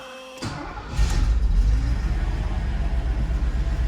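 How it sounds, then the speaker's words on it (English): A Mercedes 380SL cranks and catches on a cold start, then settles into a loud, steady low rumble of idling V8 engine close by, with no talking. "Cold start. Here we go."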